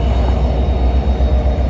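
An NJ Transit commuter train departs Newark Broad Street station, a loud steady rumble and rolling wheel noise, close and unbroken throughout, with no voices.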